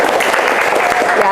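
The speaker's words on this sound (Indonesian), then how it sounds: "tepuk tangan semuanya" A school class clapping together in a Hindu religious education lesson, loud close clapping with voices over it.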